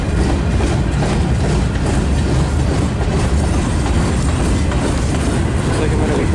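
Train rolling past close by at a busy rail line, a loud, continuous rumble with rhythmic wheel clatter that holds steady throughout without fading.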